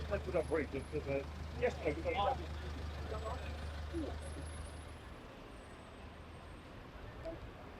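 Heavy idling engines and low rumble of gridlocked road traffic on a leafy road beside Ascot Racecourse on a race day, a steady drone under voices talking nearby, with the low engine hum dropping away partway through.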